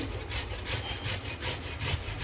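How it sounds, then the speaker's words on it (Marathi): Fresh ginger is scraped across a kitchen grater in quick, even strokes for a homemade turmeric pickle. The close, rhythmic rasping repeats steadily with no talk. "आता आपल्याला आलं देखील किसून घ्यायचं आहे"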